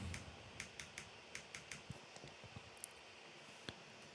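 Typing on a computer keyboard, a run of light, fairly regular key clicks close by, quiet and alone, thinning out toward the end with a couple of sharper taps.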